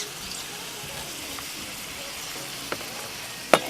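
Mincemeat and tomatoes sizzling in a frying pan, a steady soft hiss running throughout with a couple of brief clinks of a utensil near the end, no speech over it.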